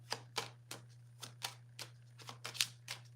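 A deck of playing cards is handled close by, with a quick series of crisp flicks and snaps as cards are shuffled and pulled, quiet against a steady low hum.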